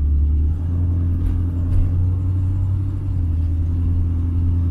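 A car with an ACES EFI Killshot fuel injection setup drives around the block, heard from inside as a loud, steady low engine rumble with smooth, even road noise and no talk.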